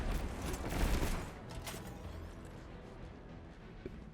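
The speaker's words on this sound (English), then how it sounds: "I'm going to rocket it once more" Rocket launcher shot at a Grandmaster boss in Destiny 2, a quick fired burst followed by a thudding impact and crackling debris, fairly quiet in the game mix and fading into low ambient combat noise, with no talking.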